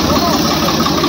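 A tractor (Swaraj 855 4x4, Arjun 605 or Mahindra 275 DI) hauls a loaded trolley up a steep slope, its engine a loud, steady, close-up drone with a voice speaking over it.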